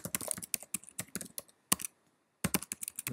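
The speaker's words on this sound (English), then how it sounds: "going to type in user ID and password, click login" Someone types a user ID and password on a computer keyboard, then clicks to log in. Quick, close clicking keystrokes come in bursts with a short pause in the middle, and no one speaks.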